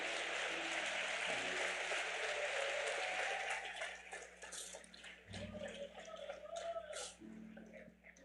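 A church congregation applauding at a Sunday evening service, a dense, sustained wash of clapping for several seconds that thins and becomes more scattered toward the end.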